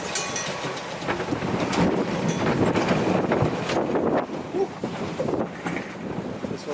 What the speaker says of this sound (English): It's 20 knots of wind now.